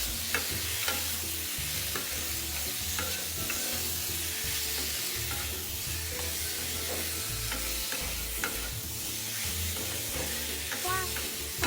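Marinated pork ribs stir-fried in a hot wok give a steady, close sizzle, with the rough scrape and clatter of stirring running through it and no voices.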